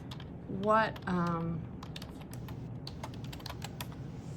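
A person speaks briefly, then quick light clicks of a computer keyboard follow as a password is typed, several soft keystrokes in an uneven run at close range.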